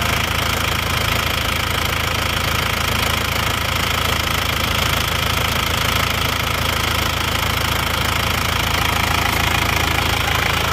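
An Isuzu Panther diesel engine runs with throttle applied, a loud, steady, close-up clatter with a continuous knocking rumble throughout, no voices.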